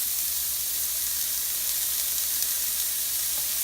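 Onions dry-frying in a pan with no oil give a continuous, even sizzling hiss at steady loudness throughout, close by, with no talk.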